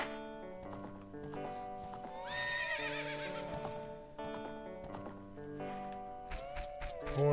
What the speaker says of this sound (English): Horse is here.